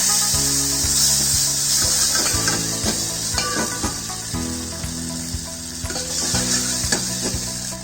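Flour and sherry being lightly stirred into consomme in a pan, a steady hissing sizzle with scraping stirring strokes, under background music.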